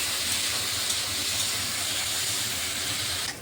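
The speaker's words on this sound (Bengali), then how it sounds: "এখন উচ্ছেটাকে আমি একটু হালকা করে একটু ভেজে নিচ্ছি।" Sliced bitter gourd fries lightly in hot oil with a pinch of turmeric, a steady close hiss that holds level for a few seconds before dropping off at the end.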